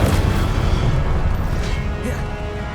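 Incendio fire spell from Hogwarts Legacy erupting as a heavy low boom that rolls on through a short burst of steady roaring combat noise, loud and close.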